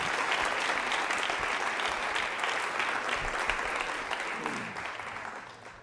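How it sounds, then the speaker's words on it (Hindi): An audience at an International Women's Day quiz event at JECRC University applauds to welcome a television director, giving sustained, full-bodied clapping that holds steady for several seconds before slowly fading toward the end. "उनके सम्मान में तालियां जोरों से बजाइए आप।"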